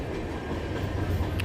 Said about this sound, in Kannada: ಗೂಡ್ಸ್ ಟ್ರೈನ್ ಇದು.